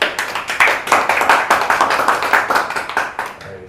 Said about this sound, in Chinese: 拍拍手